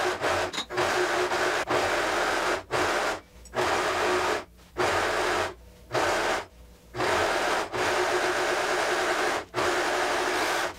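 An overlock serger finishing the armhole edge of a fabric lab coat runs in loud, steady bursts of whirring stitching up close, broken by short pauses between passes.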